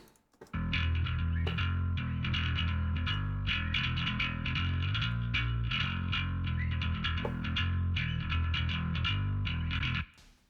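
A soloed bass guitar part, mixed for a New Wave of British Heavy Metal band, plays a steady run of gritty, slightly distorted notes at an even volume with no other instruments.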